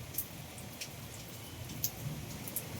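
Rain falling during a storm, a soft steady patter with occasional sharper drips ticking on a nearby surface, fairly faint and continuous without voices.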